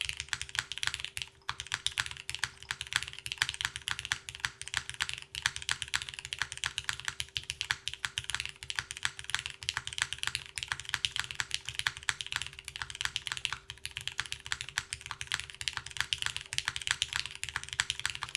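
Rapid, continuous typing on an MK Point65 mechanical keyboard, clicky keystrokes in quick, even succession, close and clear with a faint steady hum beneath.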